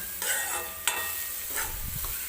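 Ground masala paste sizzles and fries in hot oil in a pan while a spoon stirs and scrapes through it, close and fairly quiet, with occasional sharper clinks.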